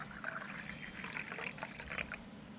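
Hot water poured into a glass tumbler gives a faint, steady liquid trickle and splash running for a few seconds on its own.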